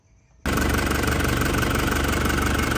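A 2005 Isuzu Panther Grand Touring diesel engine starts up and idles, a loud, close, steady low rumble with a constant mechanical knock after a short quiet moment.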